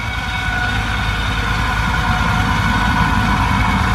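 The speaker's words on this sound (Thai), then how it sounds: "ผมมาดู เจ้ารถตีดินนะครับ หรือว่ารถไถตีนตะขาบเนาะ" A crawler tractor's heavy engine idles steadily nearby, a loud, continuous low rumble with a droning mechanical hum and no talking.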